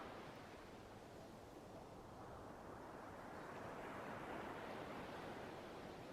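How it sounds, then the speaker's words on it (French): Ocean waves roll in a continuous wash of surf, swelling gradually louder toward the end, with no voices. "le son des vagues qui te bercent"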